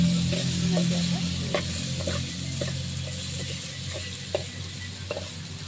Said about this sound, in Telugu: బాగా ఎర్రగా వేగనియాలి, అలా వాసన పోయే వరకు వేగాలండి